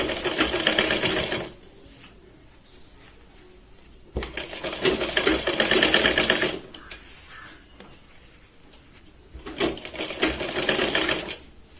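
A sewing machine double-stitches a katori blouse where the sleeve meets the back, running in three fast, even bursts of rattling stitches separated by quiet pauses.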